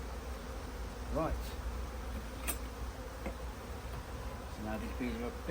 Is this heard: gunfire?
no